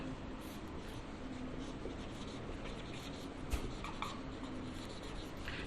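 A teacher writes on a board during a time-and-work maths lesson, giving a steady scratchy stroking that runs throughout with no talk over it.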